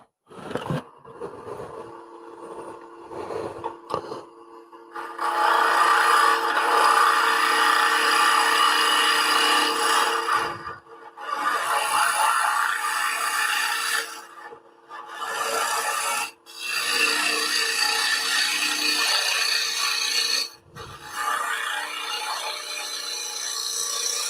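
Woodturning lathe hollowing out a small wooden snowflake bowl, a loud steady rasping scrape of the cutting tool against spinning wood in long passes, broken by short pauses and quiet gaps between cuts.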